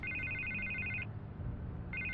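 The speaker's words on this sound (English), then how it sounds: "I can't get the phone to stop ringing." Telephone ringing in the Batman Telltale video game, a high electronic trill repeating in a sustained burst, stopping, then starting again over a low background hum, with no talk.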